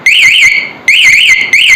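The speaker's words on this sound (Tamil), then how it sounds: "இது பைக் திருட்டு போகாமல் தடுக்கிறதுக்கு." A Yamaha R15 V3 motorcycle's remote anti-theft alarm sounds off loudly and close by, a warbling electronic siren that rises and falls in repeated bursts with short breaks between them.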